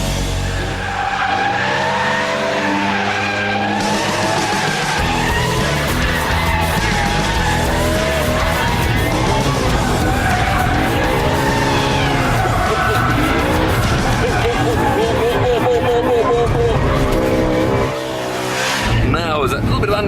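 A BMW M3 with its settings on extreme corners hard, engine roaring loud and steady while the tyres squeal and scrub through the bend, a voice talking over the top.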